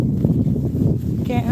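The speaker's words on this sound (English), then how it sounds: "It is windy" Wind gusts outdoors outside a care facility in Princeton, Illinois, as steady low buffeting against the microphone, loud throughout, with a brief voice or tonal sound near the end.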